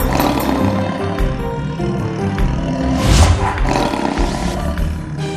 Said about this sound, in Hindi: बच्चों के स्कूल में बब्बर शेर का पहरा है।